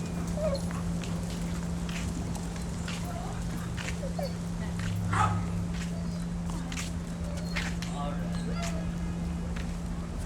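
Dogs at a dog daycare, including a Wheaten Terrier and a Basset Hound, whimper and yip faintly under a steady hum and background noise, with a person talking nearby.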